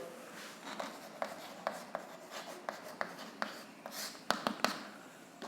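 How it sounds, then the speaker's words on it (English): A pen writes out the given information for a grade 9 maths problem on lines and angles, with quiet scratching strokes and a run of sharp taps as marks and points are put down, close and alone. "let us write what is given first."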